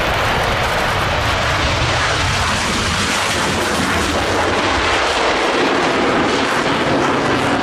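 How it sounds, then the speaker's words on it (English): A MiG-29 fighter jet flies extremely low overhead, producing a loud, continuous, rushing roar that fills the whole stretch without pause. "This MiG-29 flying extremely low before making a vertical takeoff."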